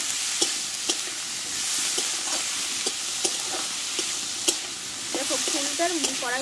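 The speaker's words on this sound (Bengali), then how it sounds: "কড়াইতে আমি ভালো করে ভেজে নিয়েছি" Drumstick flowers fry in a wok with a steady, dense sizzle, punctuated by regular clicks of a utensil stirring against the metal; a voice briefly speaks near the end.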